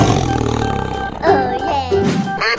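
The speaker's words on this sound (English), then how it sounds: "Tiger." Cartoonish tiger roar from a children's animal transformation cartoon, a loud, continuous growling roar lasting a couple of seconds with a rising burst near the middle, heard alone.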